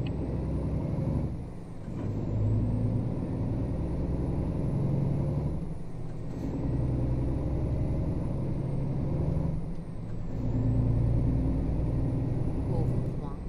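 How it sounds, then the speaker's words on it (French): An Iveco S-Way truck driving in Euro Truck Simulator 2 gives a steady, fairly loud engine drone with layered low tones that dip and swell every few seconds, like gear changes, throughout. "le nouveau Iveco Sway, là, j'ai eu l'occasion de rouler avec, franchement, c'est un très très bon camion"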